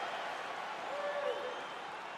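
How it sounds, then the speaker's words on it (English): In the UFC 4 video game, an arena crowd applauds and cheers steadily after a round, a dense wash of clapping and crowd noise heard at moderate distance. "So the crowd voicing its appreciation after that round."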